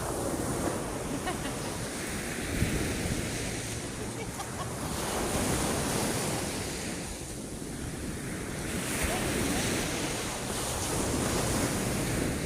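Ocean surf rolls onto a sandy beach, loud swelling waves washing in and receding in slow surges, with heavy wind rumble on the microphone.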